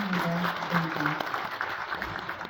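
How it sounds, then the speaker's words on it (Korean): Applause at a city's New Year press conference in a hall, moderate clapping from the audience while a voice speaks over it and music plays faintly. "이럴 때 큰박수 부탁드립니다."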